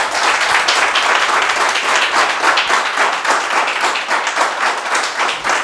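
Close, loud audience applause welcoming a Beninese mime performer at an arts café evening, dense rapid clapping holding steady for several seconds without talk.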